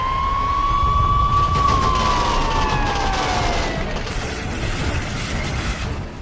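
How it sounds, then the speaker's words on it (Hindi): An air raid siren in Israel during an Iranian missile attack wails, rising and slowly falling in pitch over a loud, rumbling background, sounding distant and spread out. "देखते ही देखते पूरे इजराइल में हमले का सायरन बजने लगा।"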